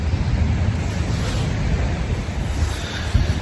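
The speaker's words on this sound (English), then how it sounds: "It's got a little bit windy now, it's a bit breezy." Wind blows steadily outdoors beside the River Waveney in Suffolk during a coarse fishing session, a continuous broadband rush of gusty air buffeting the microphone with no pause, and no voices.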